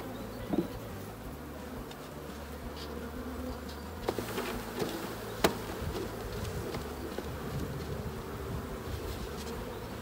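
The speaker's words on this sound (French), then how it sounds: "je vais secouer les abeilles" A dense, steady buzzing of a honeybee swarm being shaken into a hive fills the whole clip, with a few faint knocks and clicks over the drone.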